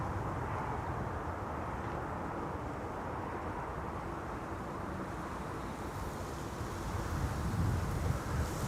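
Steady broadband roar of an airliner touching down on Schiphol's Kaagbaan runway 06, rushing engine and wind noise held at an even level throughout, swelling slightly louder near the end.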